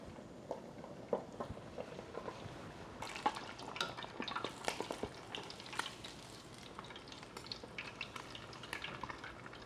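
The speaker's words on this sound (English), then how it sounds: "So we're going to fry until the pork crispy." Pork pieces frying in oil until crispy, a faint continuous sizzle with dense crackling pops and spatters, growing busier midway, with no talk.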